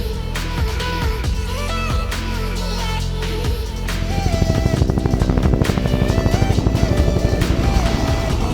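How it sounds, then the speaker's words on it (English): A helicopter flies overhead during a drive outside Las Vegas. A loud mechanical drone swells into a rhythmic rotor beating that grows stronger through the second half, with no talking. "There's the chopper."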